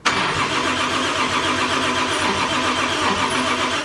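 A freshly built Toyota 2JZ engine with a new intercooler and welded pipes starts for the first time and runs loud and close, a steady rough roar that holds through to the end.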